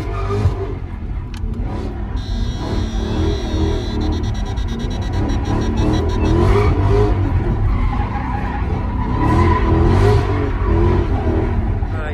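A Dodge Challenger engine revs hard and steadily while drifting at a Detroit street meet, its roar loud and sustained with tires skidding and squealing underneath.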